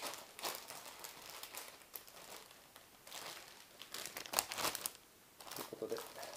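Plastic packaging of a children's learning kit crinkles and rustles in repeated bursts as the box is unpacked, close and fairly steady, with a voice speaking alongside.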